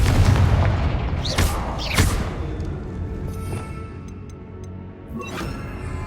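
Blasts from the Confringo fire spell in the video game Hogwarts Legacy, with two sharp booming explosions close together early on and a third later, over a rumbling game background.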